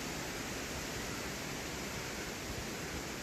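Strong wind roaring across an open hilltop on the hiking trail up Bukit Watu Jengger, a steady dense rush that fills the whole clip without letting up.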